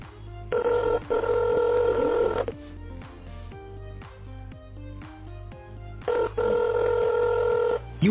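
A telephone line rings in repeated bursts while a call is being transferred to a specialist, each loud ring separated by a pause with a low steady tone underneath.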